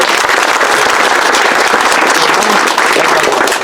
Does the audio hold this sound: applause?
yes